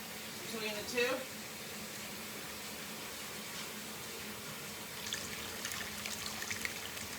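Water poured into bread dough for Amish white bread, a brief trickling splash near the start, then a low steady background with a second faint stream of pouring toward the end; no speech over it.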